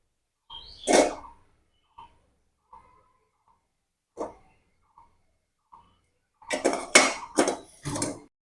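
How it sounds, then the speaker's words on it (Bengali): Knife cutting a boiled potato into small pieces on a board. Sparse, soft taps sound at irregular intervals in a quiet room, then a quick cluster of louder chopping taps near the end. "এই ছুরিটা দিয়ে ছোট ছোট করে আলুটা কেটে নেব"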